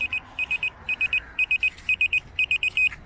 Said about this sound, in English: the middle button up the top to stop that beeping